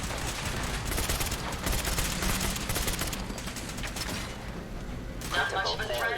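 Rapid, dense gunfire from a Fallout video game, with bursts of shots and mechanical clatter running nearly continuously at a loud, steady level, ending with a tonal electronic sound.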